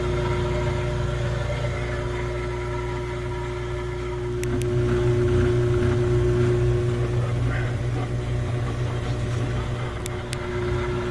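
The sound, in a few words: washing machine motor spinning without turning the transmission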